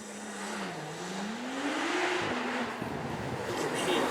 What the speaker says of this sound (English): You can hear just how efficient it is going through that gear, all the way into second, flat 6 with 2 turbochargers.